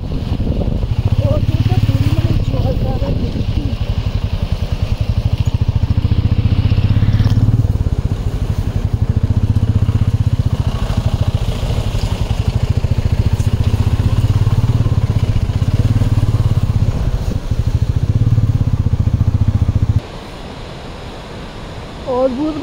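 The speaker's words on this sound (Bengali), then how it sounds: "এই প্রথমবার লাইফে পাহাড়ে আমরা বাইক রাইডিং করে নিয়ে" A motorcycle rides a mountain road in North Sikkim, its low engine drone steady and loud throughout, mixed with rushing wind, then dropping away abruptly near the end.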